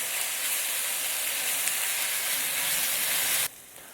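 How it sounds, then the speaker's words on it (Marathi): Ginger-garlic paste hits a hot pan in a loud, steady sizzle that hisses for several seconds, then cuts off abruptly near the end. "फ्राय करून घ्यायचं आहे 1 मिनटं"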